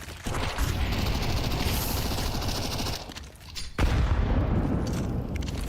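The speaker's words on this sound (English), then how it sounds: "I'm throwing a grenade. Throwing the flashbang." Flashbang and grenade blasts in the Counter-Strike 2 video game, a dense barrage of booming bursts and crackling gunfire that drops out briefly before a loud burst near the four-second mark.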